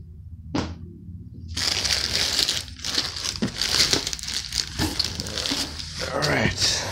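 Bubble wrap crinkles and crackles loudly and steadily up close as mail is unboxed, with a voice speaking in the background.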